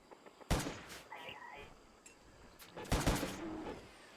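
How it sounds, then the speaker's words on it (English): Ammo stockpile exploding in a video game: two loud, sharp bursts with crackling debris, one near the start and another later, with scattered smaller pops between and faint background hum. "The ammo explosions do die down over time."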